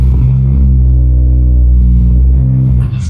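A restored BMW 760 with a V12 engine runs right after being started, a loud, close, deep rumble held steady for about three seconds before it dips sharply.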